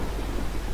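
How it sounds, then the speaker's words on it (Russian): Thunder with lightning in the horror video game Outlast: a brief, dense burst of rumbling, hissing noise at steady loudness with no voice over it. "Молния."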